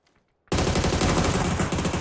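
Dense, continuous automatic gunfire in a PUBG esports match starts abruptly after a half-second of near silence and rattles on loud and close without pause.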